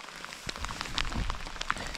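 Rain falls steadily during a cycling ride through the Auvergne, a soft continuous patter with scattered sharper drop hits, fairly close and with no talking over it.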